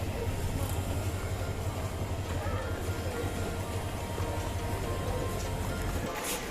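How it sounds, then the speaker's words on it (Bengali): A train rumbles at Chittagong railway station, a loud continuous low roar with rattling and station hubbub throughout, ending in a brief sharper clatter. "Chittagong railway station."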